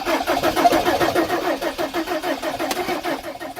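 After an injector repair, a car engine cranks with a rapid, pulsing starter churn that runs steadily and close throughout, with no clear catch to a running idle.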